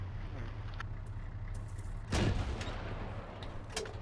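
An Mk 19 grenade launcher fires one distant, muffled boom about midway through, standing out briefly over a low, steady outdoor rumble.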